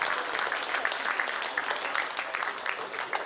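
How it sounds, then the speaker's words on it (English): A crowd at a men's Australian Rugby Shield match applauds both teams, a steady, fairly distant patter of clapping that holds throughout without voices standing out. "can we get a round of applause for both of these teams here"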